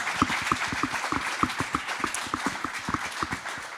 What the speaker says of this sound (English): Everyone, a big round of applause for Stephen, Maik, and Alistair